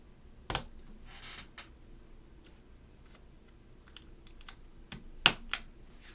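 Alps SKCM White switches are clipped one at a time into a Hex.3c keyboard plate, making a few sharp, isolated plastic clicks and snaps spread across a mostly quiet stretch.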